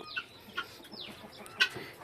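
Sonali hens settling to roost at night, giving a few soft, scattered clucks and brief squawks at moderate distance, with quiet pauses between calls and no talking.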